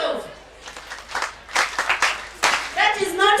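A youth conference audience claps in scattered bursts, sharp uneven claps rising and fading, with voices heard between them.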